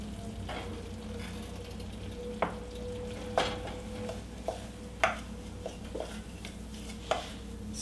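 A flour-and-fat roux for a vegetarian moussaka sauce cooks in a pot, stirred steadily with a low sizzle, punctuated by a handful of sharp scrapes and taps of the utensil against the pot; no voices.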